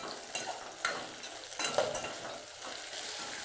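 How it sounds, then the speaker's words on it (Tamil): Four large onions, cut lengthwise, sauté in a pan for poori masala kurma: a steady sizzle with repeated scraping stirs of a spatula, close and moderately loud. "நான் வந்து பெரிய வெங்காயம் 4 வெங்காயம் போட்டிருக்கேன்."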